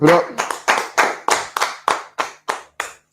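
Roughly ten loud, close hand claps land in a quick, slightly uneven rhythm, each sharp and distinct with brief silence between, clapped up by a small group at a gathering.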